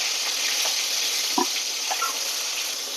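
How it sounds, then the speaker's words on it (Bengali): Shankar fish fry in oil in a wok with a steady, even sizzle, broken by a single brief clink of a utensil and a few faint pops. "বাকি মাছগুলো আমি কড়াইতে বসিয়ে দিয়েছি, এগুলো আমি ভালো করে ভেজে নেব"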